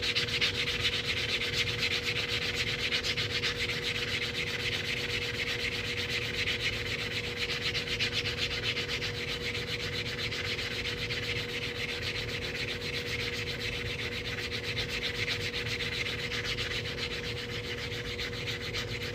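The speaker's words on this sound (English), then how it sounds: "So we're gonna sand that down." Steady, continuous sanding of the rough cut edge of a quarter-dollar coin ring, a close, even rasping rub that holds for the whole stretch with no talking.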